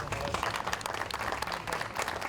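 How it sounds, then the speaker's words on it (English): Audience applause at a televised community event in Winnipeg, a steady dense patter of many hands clapping throughout, moderately loud and fairly close, with no talk over it. "let's give a huge round of applause"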